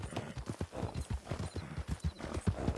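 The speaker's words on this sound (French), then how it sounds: "Ça, c'est un cheval incroyable." Horse hooves clip-clopping at a steady walking rhythm in the video game Red Dead Redemption, close and fairly soft, with no talking over them.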